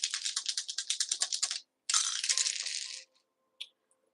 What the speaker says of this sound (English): Let me roll these astro dice.